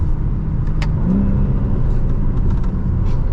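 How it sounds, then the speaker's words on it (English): A 2025 BMW M3 Competition drives along with a loud, steady engine drone and road rumble from inside the cabin, with a brief rise in pitch as it accelerates. "this is what it's like to be behind the wheel for the BMW M3 competition"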